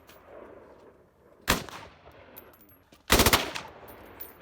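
Two sharp, loud bursts of gunfire from a machine gun on a helicopter gunship, each lasting about a quarter second and separated by a quiet gap of roughly a second and a half.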